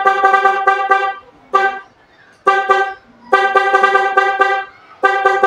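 Papapdol relay horn on a Mitsubishi L300 van, loud and close, blaring in a rhythmic pattern of quick repeated toots and longer blasts with short silent gaps between.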